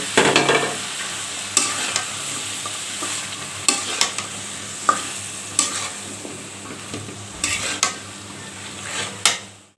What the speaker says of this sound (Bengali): এখন আমরা কাঁঠালের বিচি আর আলু দিয়ে দিব তার সাথে দিয়ে দিব ডাটা এগুলোকে ভালোভাবে কষিয়ে নেব